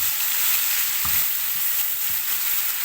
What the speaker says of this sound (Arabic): هبدا انزل بيه هو الاول، البصل الاول كده زي ما انتوا شايفين